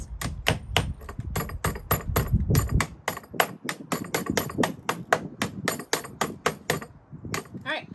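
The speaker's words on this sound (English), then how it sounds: "if that happens, you just take your hammer" Rapid metallic hammer taps on a 12-volt RV battery terminal, dozens of quick sharp hits in an uneven rhythm, close up with no talking.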